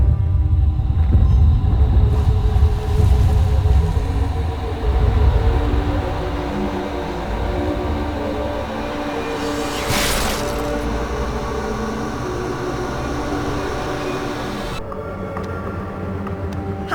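Low, heavy rumble of the infernal train in Alice: Madness Returns, steady and loud throughout with a brief hiss burst near the middle, layered under game ambience and no talk.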